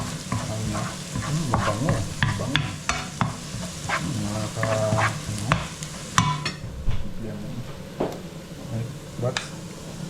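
Garlic and other aromatics sizzle and crackle as they are stir-fried in a pan for beef and broccoli, with scraping stirs and clinks of utensils throughout and a voice speaking briefly over the cooking.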